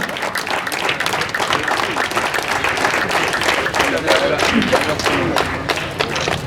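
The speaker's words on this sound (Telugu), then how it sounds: "దయచేసి చప్పట్లతో వాళ్ళని ఆహ్వానిద్దాము." At a felicitation event held by a daily walkers' welfare association, an audience applauds to welcome the honorees, with steady, dense clapping running throughout, mixed with some thumps and faint background voices.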